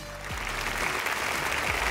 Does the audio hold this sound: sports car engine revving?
no